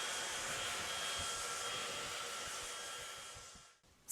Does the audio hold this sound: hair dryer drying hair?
yes